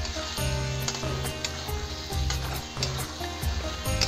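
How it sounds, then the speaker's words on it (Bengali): Fried potato pieces are stirred into sizzling masala in a pan, a soft frying hiss with light scraping strokes running steadily beneath background music. "ভাজা আলুটা দিয়ে একটু নাড়াচাড়া দিয়ে অল্প একটু জল দিয়ে ঢেকে দেবো"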